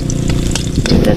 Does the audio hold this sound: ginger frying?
yes